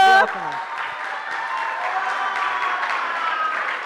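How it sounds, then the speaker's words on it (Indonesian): Applause rises from an audience at a madrasah school event in Pekanbaru just after a voice cuts off, continuing as steady, moderately loud group clapping. "Oke, tepuk tangan dulu"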